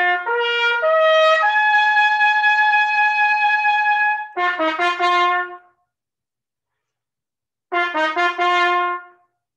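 Solo trumpet playing sections 8 and 9 of Otto Ketting's Intrada: a rising run into a long held note, then two short bursts of quick articulated notes separated by silence, bright and close.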